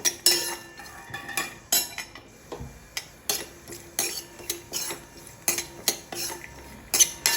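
Cashews roast in a pan for a panchmev prasad while a metal spoon stirs them, making a run of sharp clinks and scrapes against the pan with short quiet gaps between.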